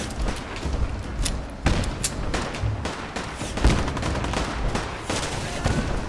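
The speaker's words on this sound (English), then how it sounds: "there's gunfire from over there now" Gunfire in the video game Fallout 4, scattered shots and short bursts with thuds cracking across a noisy battle soundscape, some nearer and louder, others farther off.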